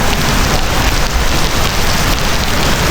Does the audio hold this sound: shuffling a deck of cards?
no